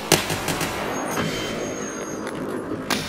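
Rapid point-fire gunshots from a high-RPM HK rifle in Escape from Tarkov, sharp bursts clustered near the start and a loud crack near the end over steady background noise.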